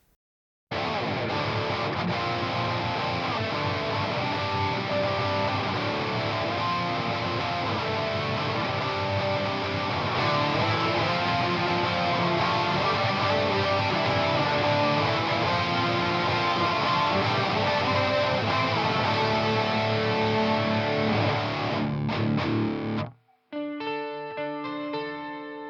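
Distorted electric guitar through a Celestion Creamback M speaker in a 2x12 cabinet, loud sustained chords ringing continuously for over twenty seconds before cutting off into a brief quieter tail.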